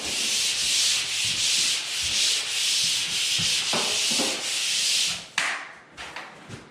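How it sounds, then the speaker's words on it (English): A pole sander scrapes steadily across drywall in long back-and-forth strokes, a continuous close abrasive rasp that stops abruptly near the end, followed by a few brief scuffs. "So I did that one side, so I sanded the inside, and then I moved it over, and I took that edge off."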